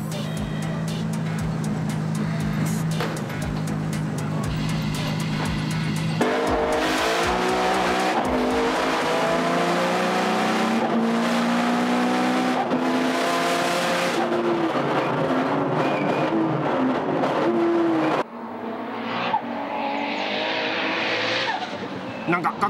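An 850 hp race car with a sequential gearbox laps a Japanese circuit, engine screaming and shifting with tire squeal and intermittent clunks, loud and close, ending in a quieter stretch.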